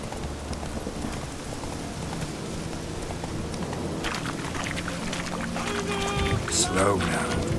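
Hooves of Roach, a horse in The Witcher 3 on Skellige, clip-clopping steadily beneath music and ambient noise, with a brief louder burst of effects toward the end.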